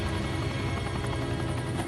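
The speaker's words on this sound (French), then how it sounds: "Maman, tu entends? Un hélicoptère." Helicopter flying overhead, a steady droning engine and rotor rumble holding constant at moderate distance, alone with no voices.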